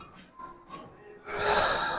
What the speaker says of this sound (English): Don't mind the heavy breathing.